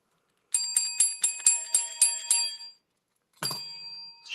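A bicycle-style bell dings in a quick run of about eight bright metallic strikes, then falls silent before one final ring that trails off, loud and close with no talk.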